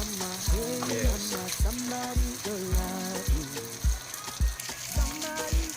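Rice fries with apple and coconut in an oiled pan, giving a soft, continuous sizzle under rhythmic thuds and clatter from the cookware, and someone briefly speaks.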